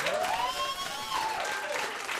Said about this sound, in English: Give a round of applause for the comics tonight.